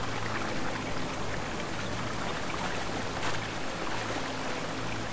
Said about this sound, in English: Nice, there's a single waterfall here.